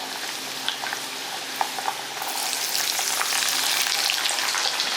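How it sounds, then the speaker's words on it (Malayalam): Garlic frying in hot oil for a homemade Kerala-style lemon pickle, with a steady close sizzle that grows denser and louder partway through, dotted with small pops and crackles. "ഇനി നമുക്ക് വെളുത്തുള്ളി ഒന്ന് ഇളക്കി കൊടുത്തു കഴിയുമ്പോൾ നമുക്ക് വെളുത്തുള്ളി ചേർത്ത് കൊടുക്കാവേ"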